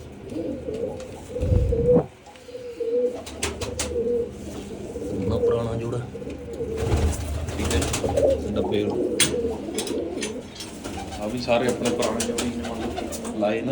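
Pigeons coo steadily in a breeding loft, their low repeated calls close and continuous, with a voice speaking over them and a brief thump near the start.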